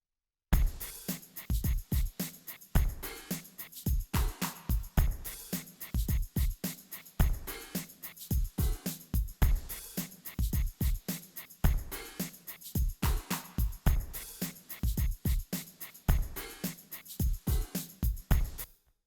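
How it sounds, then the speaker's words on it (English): A steady drum groove with punchy kick and snare hits repeating in an even, driving pattern, loud and close, with no voices. "First I'm gonna play the whole drum rhythm."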